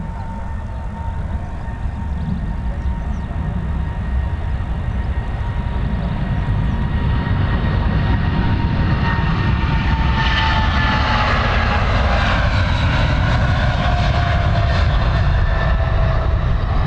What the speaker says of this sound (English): Here we go, this Emirates is departing